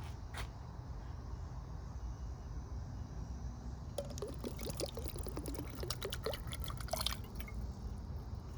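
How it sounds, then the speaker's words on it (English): Water poured from a container into a cooking pot on a new camp stove in a truck, a splashing trickle running for a few seconds after a quiet start, fairly faint against a steady background hum. "now I'm gonna add some water."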